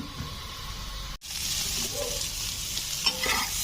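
Cauliflower pieces fry in hot oil in a pan, a steady close sizzle with scraping stirs of a spatula, broken by a brief gap before the frying resumes.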